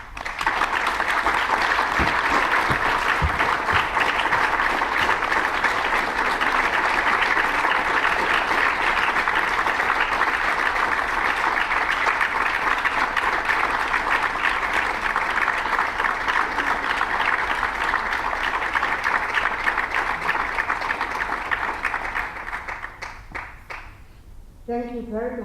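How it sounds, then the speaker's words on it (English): Audience applause at a formal ceremony, a long, loud, steady roar of clapping from a large standing crowd that holds for about twenty seconds before tapering off, with a voice emerging at the end. "We are sure that he heard this applause"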